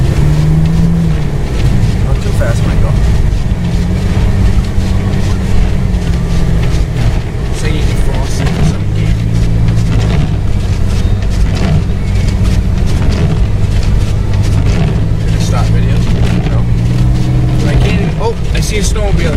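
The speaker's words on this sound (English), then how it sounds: "Oh, no. Snow blower. Nice snow blowing." A snow blower engine runs during a Maine snow storm, a steady loud motor drone with wind buffeting throughout and voices heard faintly at times.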